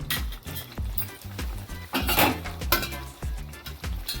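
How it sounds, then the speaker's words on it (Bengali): Metal clatters against a karahi pan as a lid is handled and set on top while Karahi Chicken cooks, several distinct clanks and clinks over a soft cooking background. "তো আমি এটাকে মোটামুটি 5 মিনিটের জন্য আমি কিন্তু এটাকে ঢেকে দেবো।"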